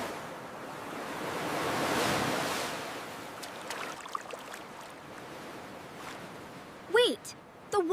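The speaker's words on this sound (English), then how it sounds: "Look at the waves. Woo! They are getting closer." Ocean surf washes onto a beach in Hawaii, a broad rushing swell that builds, peaks and slowly recedes, with brief excited voices near the end.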